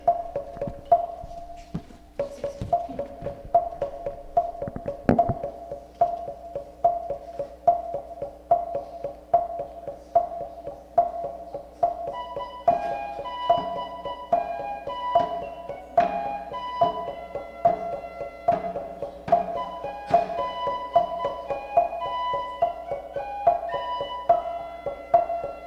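Flute playing the melody of the tun dance, a repeating rhythmic tune of short sustained notes over a low steady drone, close and clear for about twenty-five seconds with no talking.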